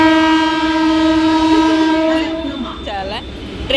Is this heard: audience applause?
no